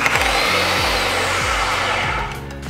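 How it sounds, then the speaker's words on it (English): A digital tube bending machine runs in reverse, backing its bending shoe out of a tube: a steady, loud motor whine with a regular repeating mechanical pulse, easing down slightly as it stops near the end. "The machine will first back out about 15 degrees and stop."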